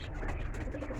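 Racing pigeons coo softly while they are given a bath, a brief low burbling call nearby over a steady background hiss.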